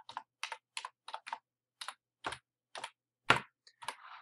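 Keys on a computer keyboard are tapped in a short, uneven burst of about a dozen crisp, close clicks as a password is typed, with quiet gaps between strokes and no talking.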